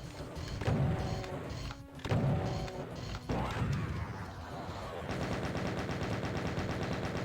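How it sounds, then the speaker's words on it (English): Rapid gunfire and heavy crashing impacts in the Doom video game come in loud bursts, followed by a steadier mechanical rattle, with a voice talking faintly beneath. "Using the last of my bullets"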